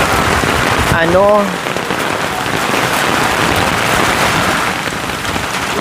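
Heavy first rain of the season pouring steadily on a house construction site, a loud continuous hiss of drops on surfaces, with a brief voice and a short whistling sound near the start.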